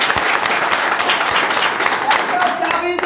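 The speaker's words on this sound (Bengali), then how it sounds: "আর বাচ্চাটার জন্য একটা হাততালি হবে কি না?" An audience clapping for a child at a gathering, a dense, sustained round of applause from many hands nearby, with voices underneath.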